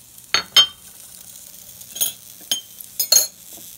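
Spices, paprika, turmeric and salt, being stirred into sliced bitter gourd, with a few sharp clinks and scrapes of a spoon against a bowl at irregular intervals over a quiet background.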